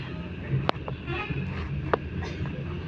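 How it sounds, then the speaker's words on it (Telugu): Car horns honk in city traffic in Hyderabad, with a few short toots poking out of a constant, muffled street rumble at moderate distance, and no clear talk. "ప్రతి ఊడు హార్న్ కొట్టేవాడు"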